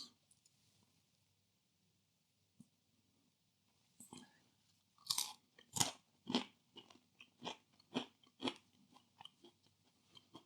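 After a quiet start, close-up crunchy chewing of stonebaked four cheese pizza crust begins, a steady run of crisp bites and munches at a regular rhythm.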